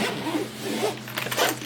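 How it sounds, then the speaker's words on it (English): A zipper is drawn around a Steam Deck carrying case, a fabric hard-shell case holding accessories, giving a steady raspy zip run of about a second and a half, close and clear with no talking. "Zip it up."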